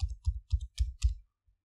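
Computer mouse clicks on a sign-in button, five crisp close clicks in quick succession followed by one faint final tap, alone with no voices.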